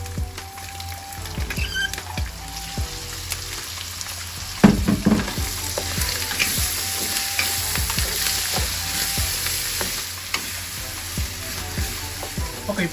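Mirepoix of carrots, celery, onion and garlic sizzling in a pan for lasagna sauce, a steady loud fry with frequent stirring scrapes and clatters, one sharper knock near the middle.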